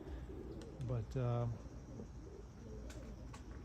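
Birmingham roller pigeons cooing outdoors, with a brief low, throaty coo standing out over steady background noise; a voice speaks briefly.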